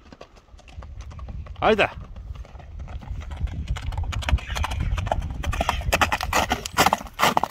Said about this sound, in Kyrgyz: Көк ат вулкан чапкандарын көрүп турасыздар, аттын чуркагандарын